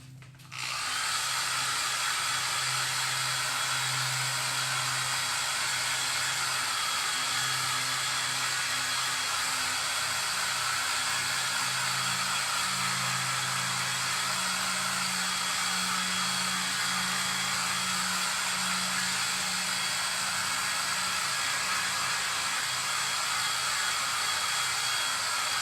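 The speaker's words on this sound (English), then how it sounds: "let me touch it with a quick blow dryer" A blow dryer runs steadily at close range, a loud continuous whoosh with a low motor hum underneath, unbroken from start to finish.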